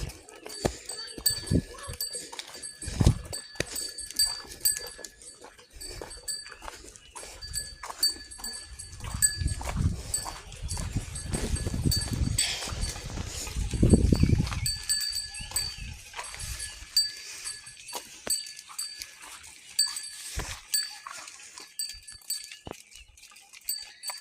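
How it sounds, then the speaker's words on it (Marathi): A herd of cattle, including a Konkan Gidda cow, returns from grazing in a Konkan village, with scattered hoof steps, shuffling and occasional animal calls, growing into a heavier rumble of movement midway before thinning out. "ही काली गाय आहे ना ही कोकण गिड्डा ही आपल्या कोकणातली गाय आहे"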